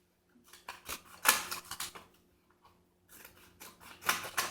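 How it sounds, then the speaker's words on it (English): Crisp scissor snips come in quick irregular bursts, close by, with a short quiet gap midway before more cutting follows. "They just take the scissors and cut up."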